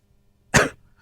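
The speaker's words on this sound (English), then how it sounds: "Sorry for the coughing fit, guys." A single sharp, close cough bursts out once in an otherwise quiet lecture room during a bout of coughing.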